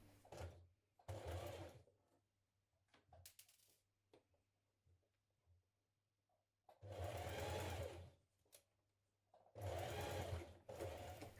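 A domestic sewing machine stitches a teddy bear's head in place at the neck, running in three clear bursts of rapid mechanical whirring separated by quiet pauses with small handling clicks.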